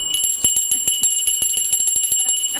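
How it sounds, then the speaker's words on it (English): A hand bell rung rapidly and repeatedly in a radio studio, a fast continuous series of bright metallic strikes, loud and close, with no talking. "Just ring the bell."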